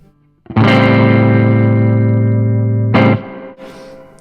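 A sustained, heavily overdriven electric guitar chord through a Marshall Bluesbreaker reissue pedal rings out alone for over two seconds, then a short strummed burst follows before it fades.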